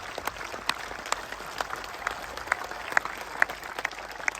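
Crowd at an outdoor political rally in Rajasthan claps steadily, a diffuse, moderately loud patter of many hands with scattered louder claps standing out, continuing without pause.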